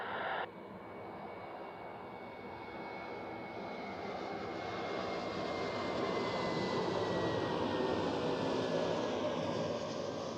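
A jet airliner takes off from runway 28 at Zurich Airport, its engine roar swelling steadily from a distant rumble into a loud, broad thundering rush with a thin rising whine over it, no voices.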